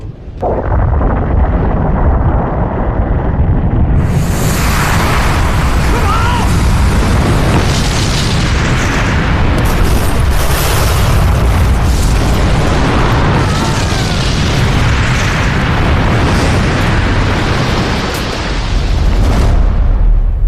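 A deep, continuous roaring rumble of an avalanche with crashing bursts, loud and sustained, rolling on for many seconds.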